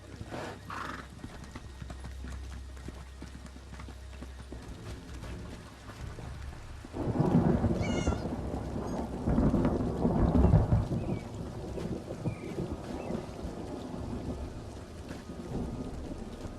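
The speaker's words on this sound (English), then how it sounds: "Nothing like an afternoon thunderstorm to make a storm mage feel at home." A video game thunderstorm with rain and rolling thunder swelling midway, alongside horse hooves clip-clopping and a whinny, all at moderate loudness with no speech.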